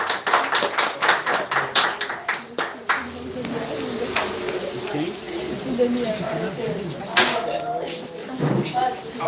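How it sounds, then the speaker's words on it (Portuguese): Church congregation clapping in praise during an evangelical service, sharp rhythmic claps for the first few seconds that give way to murmuring voices and talk with scattered thumps. "Palmas para Jesus"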